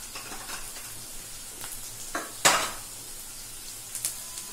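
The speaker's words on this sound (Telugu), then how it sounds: "తాలింపు బాగా వేగుతోంది చూడండి." A turmeric and curry leaf tempering sizzles faintly in hot oil in a pan while a carrot egg fry is made, with a few soft clinks and one sharper crackling burst near the middle.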